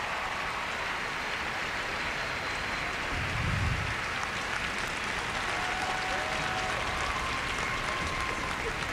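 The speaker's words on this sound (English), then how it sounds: "Nice applause from them, obviously, and the rest of the crowd here in Spokane" Audience at a figure skating pairs free skate in Spokane applauding in a steady, dense patter of many hands that stays even throughout, with a faint voice now and then.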